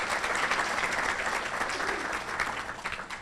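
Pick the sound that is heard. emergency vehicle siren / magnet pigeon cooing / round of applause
round of applause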